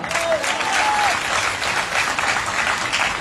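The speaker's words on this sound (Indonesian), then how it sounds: "Mana tepuk tangannya?" Congregation applause fills a church revival service in Nias, a dense, steady wash of many hands clapping at close range, with a brief voice and faint tonal sound near the start.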